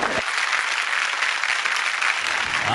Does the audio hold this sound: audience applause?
yes